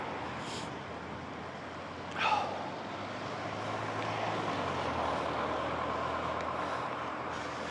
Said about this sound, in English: What's a nice fire truck.